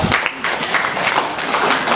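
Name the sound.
classroom applause for a student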